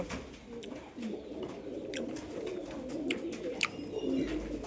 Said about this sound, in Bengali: কাকার তেজি পায়রা দেখতে পাচ্ছ বন্ধুরা আরও খোপে কিছু বাচ্চা আছে